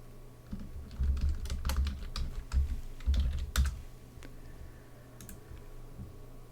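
Bursts of rapid keyboard typing into drafting software, close and crisp, in two clusters of clattering keystrokes followed by a few isolated taps.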